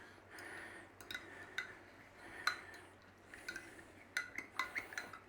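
A spoon clinks against a bowl while a mixture is stirred to dissolve it, a quiet scraping with a series of sharp taps that grow more frequent toward the end.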